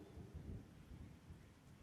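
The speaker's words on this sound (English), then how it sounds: "Thunder and lightning." Thunder rumbles low and faint in a storm, a soft rolling boom that swells and fades under a light wash of rain.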